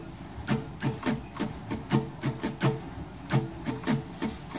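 An acoustic guitar strummed in a muted, percussive pattern, choppy scratchy strokes in a steady syncopated rhythm, fairly quiet and close with no voice.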